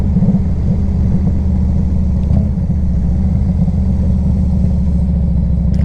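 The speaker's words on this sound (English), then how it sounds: "This bike really does run very well." A 1998 Harley-Davidson Electra Glide Classic with a fuel-injected engine runs steadily up close, a loud, even low rumble with a throbbing pulse throughout and no voices.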